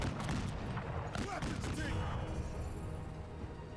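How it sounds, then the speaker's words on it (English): Heavy gunfire in an expert-difficulty video game, bursts of rapid shots and booming impacts crowding together at close range, then easing into a rumbling tail. "A lot of heavy fire."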